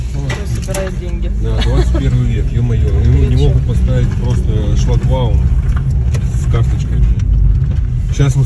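A car rolls slowly into a parking area at a market in Pyatigorsk, its low engine rumble steady under people talking inside the vehicle.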